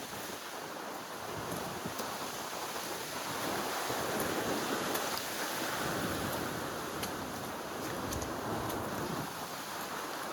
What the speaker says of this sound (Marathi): हवा बघा अशा प्रकारे वारा चालू झालेला, सोसाट्याचा वारा